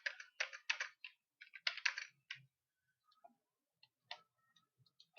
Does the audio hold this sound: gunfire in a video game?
no